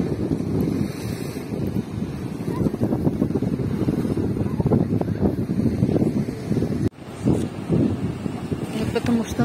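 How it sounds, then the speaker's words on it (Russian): Rough sea waves breaking on the Odesa shore with wind from the sea, a steady loud surging roar throughout, buffeted by heavy wind rumble on the microphone. "Море у нас сегодня волнуется."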